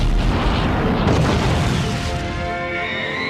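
A deep, rumbling explosion effect depicting dying stars, loud and sustained, fading into a lingering tonal hum toward the end.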